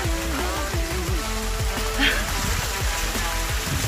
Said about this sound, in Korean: 이 모습 폭포 같은데